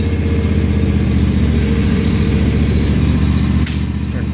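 A 2016 John Deere X570 lawn tractor engine running at a steady, smooth idle close by, a low even drone throughout, with a sharp click near the end.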